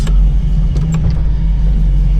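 A 1969 Oldsmobile 442 V8 idles close by with a deep, steady low rumble and slight uneven throbbing, running on its own without speech.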